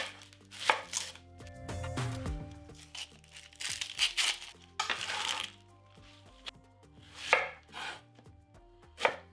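A knife cuts an onion into thick slices on a cutting board: crisp, close chopping strikes with irregular spacing, some quick pairs, and short pauses, with no talking.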